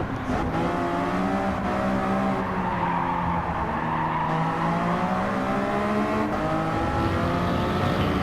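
Race cars circling a track in a Challenge Series race, engines droning loud and continuous while one car loses grip, tyres squealing and scrubbing across the surface, with no voices.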